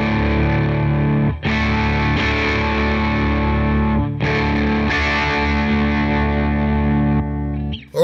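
Electric guitar played through a drive pedal model on a Line 6 Helix in 18-volt mode, sustained distorted chords ringing out in a few long strums, loud and alone with no talking.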